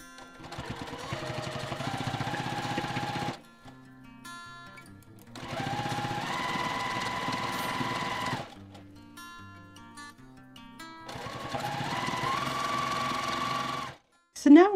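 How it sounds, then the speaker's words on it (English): A sewing machine stitches binding onto a quilt in three sustained bursts of close, rapid whirring, separated by quiet pauses. "So all I'll do now is just sew it on at the back"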